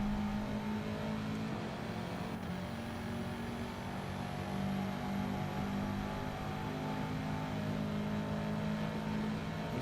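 Racing car engines in Gran Turismo 7 roar at sustained high revs, with a steady, loud engine drone and other cars close by.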